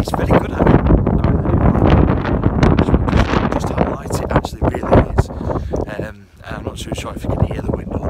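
Strong gusting wind buffets the microphone at a campsite in the Scottish Outer Hebrides, a loud continuous rumble with a brief lull near the end, a person talking over it.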